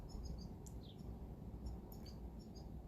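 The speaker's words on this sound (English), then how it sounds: "Do you hear our bird? She's here. We have these black and gold finches." Black and gold finches chirp in short, faint, scattered calls against a steady low background hum.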